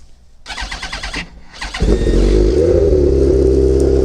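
A Yamaha R1 1000 motorcycle engine cranks briefly, then catches and settles into a loud, steady idle close by.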